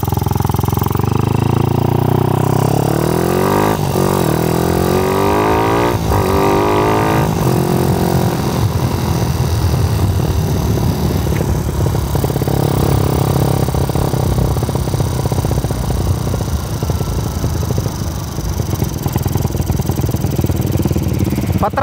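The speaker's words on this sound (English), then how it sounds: "Parang gustong dumulo ng motor ko, humahabol ko siya sa dulo mga sir." A motorcycle on a test ride with a racing ECU in place of the stock CDI revs up loudly, pitch climbing in the first seconds, then holds a steady, close engine drone while wind rushes over the microphone.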